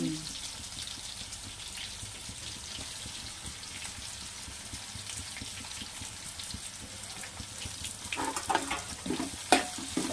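Turmeric, ginger and garlic paste frying in a pan for a Telugu-style fish curry gives a steady, close sizzle throughout, with brief stirring scrapes and clatter toward the end.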